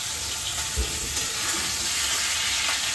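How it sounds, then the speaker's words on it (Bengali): A hilsa fish head frying in a pan, a steady close sizzle with a soft bump of the pan, no voices. "আমি কিন্তু মাছ ভাজছি মাছ না মাছের মাথা ইলিশ মাছের মাথা ভাজছি"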